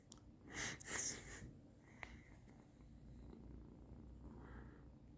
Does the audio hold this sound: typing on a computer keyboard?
no